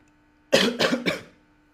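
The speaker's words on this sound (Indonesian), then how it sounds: "Sorry ya batuk." A single person coughs three times in quick succession, close and fairly loud, with quiet room tone before and after.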